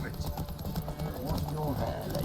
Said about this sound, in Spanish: Gana la carrera de caballos.